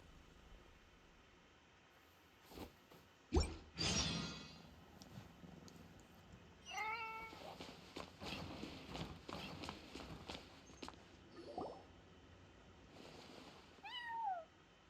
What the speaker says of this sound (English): Aw, that's a good kitty, Sir Pouncelot.